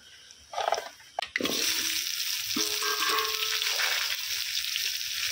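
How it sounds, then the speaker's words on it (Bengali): Fish roe frying in a pan for a tangy fish-egg dish, with a loud steady sizzle starting after a few clanks and stirring sounds, continuing close and unbroken with occasional spatula scrapes. "মাছের ডিমটাকে উল্টি পাল্টি ভালো করে লাল লাল করে ভেজে নেব"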